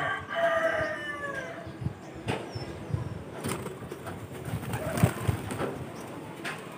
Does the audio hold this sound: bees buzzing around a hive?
no